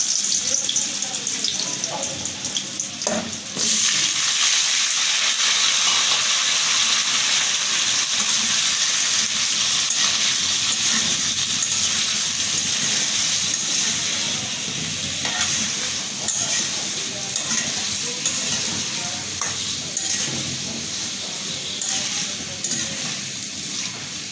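Chopped pumpkin vegetable dropped into a hot pan with eggs, a loud burst of sizzling and frying that settles into a steady close crackle with occasional stirring.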